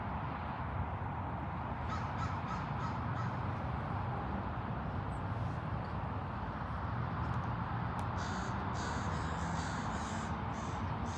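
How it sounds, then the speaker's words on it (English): A large murder of crows caws across a cemetery grounds and its trees, the calls scattered and overlapping above a steady, broad background hiss, with denser bursts of cawing toward the end. "A large murder of crows on this cemetery"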